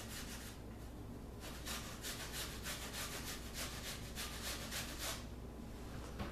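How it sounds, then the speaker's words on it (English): Peeled apples are grated into a bowl, producing a continuous scraping, rasping sound close up with a steady rhythm of grater strokes and no talking. "take the grater and we grate it into a bowl"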